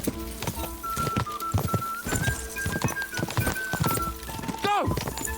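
A horse galloping hard in a horse race in Kingdom Come: Deliverance II, with rapid, loud hoof clops running throughout under shouted in-game voices and a player's talk, and a brief whinny-like sound near the end.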